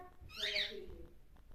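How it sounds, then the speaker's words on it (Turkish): A single faint bird call, a brief hooting cry, sounds at a distance against quiet background noise. "Bak yine kuşlar."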